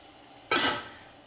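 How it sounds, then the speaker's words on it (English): A lid set down on a pot of boiling couscous, a single sharp metallic clank that rings briefly and fades, close by with no talk. "Lid goes on."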